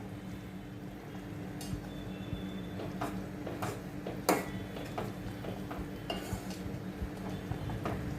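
Bread pieces dipped and stirred through a boiling masala mixture in a pan over a medium gas flame, with scattered close clinks and scrapes of a utensil against the pan over a steady low cooking noise, no talk.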